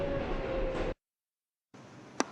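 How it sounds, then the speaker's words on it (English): An R142A 6 express subway train bound for Pelham Bay Park rumbles along in New York City. The steady roar cuts out for almost a second, then returns with a short, sharp squeal near the end. "This is a Pelham Bay Park bound 6 express train."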